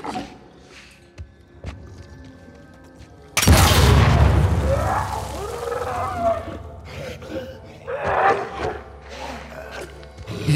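A loud explosion in The Last of Us Part II erupts suddenly with a deep, booming blast, then decays into rumbling debris and scattered combat noise.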